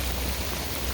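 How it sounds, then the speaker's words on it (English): Steady, dense rain pours down in a continuous wash of noise, with no pauses and no voices. "the rain is not letting up"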